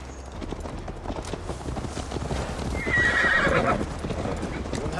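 Horses galloping in Assassin's Creed Valhalla, a steady clip-clop of hooves with a whinny partway through, loud and close against a constant background wash.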